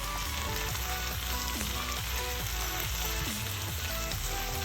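Celery, carrots and potatoes fry in a pot for Portuguese bean soup, giving a steady, loud sizzle that runs throughout over a soft musical backdrop, with no voices.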